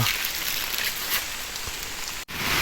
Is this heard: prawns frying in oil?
no